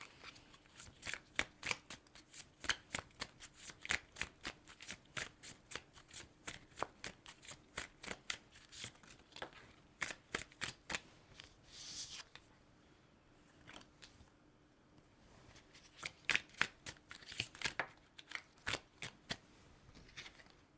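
A Black Rose Oracle card deck is shuffled in quick, crisp bursts of riffling and flicking cards. The bursts come close together, pause briefly partway through, then pick up again, up close with no talking.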